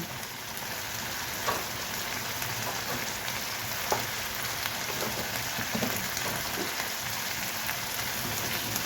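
Quiet, steady frying of an onion paste masala with turmeric and chilli powder for a potato and pea curry, a faint even crackle with occasional light ticks.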